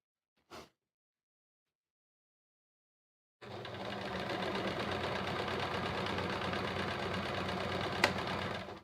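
Sewing machine stitching steadily during free-motion quilting, a continuous close mechanical whir after a brief knock and a few seconds of silence.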